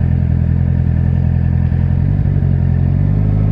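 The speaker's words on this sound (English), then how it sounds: "my exhaust is a bit loud, I don't want to like rip past some horses" A 2019 Honda CBR650R inline-four motorcycle with a loud aftermarket exhaust drones steadily while being ridden. The deep, throbbing engine note stays close and loud throughout, with a slight change in pitch partway through.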